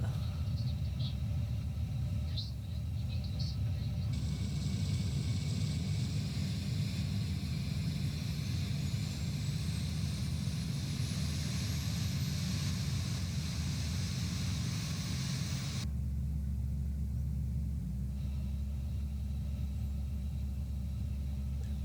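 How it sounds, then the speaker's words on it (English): An Airbus A350-900 engine spins up in Microsoft Flight Simulator 2024: a steady low rumble with a rising whine that climbs for about fifteen seconds, then settles into a deep, even drone. "starting engine number 1."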